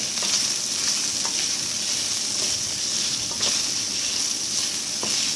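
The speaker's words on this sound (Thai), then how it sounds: "เราจะเคี่ยวไปเรื่อยๆจนกว่า น้ำมันจะออก แล้วหมูจะเหลืองดีเราถึงจะเอาพริกแกงลงนะคะ" Pork fries in oil in a pan for a Thai red curry stir-fry with bamboo shoots, giving a steady, close, dense sizzle with faint scrapes of stirring throughout.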